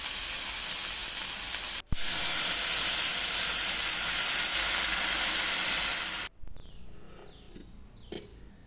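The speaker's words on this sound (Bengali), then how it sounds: "সেগুলোকে একটু ভালো করে ফ্রাই করে নিয়ে এর মধ্যে দিয়ে দেবো জল" Water is poured into a pan of fried green chillies for Maggi noodles. A loud, steady hiss and sizzle runs for several seconds, breaks off briefly, then falls away to quieter bubbling with faint clinks.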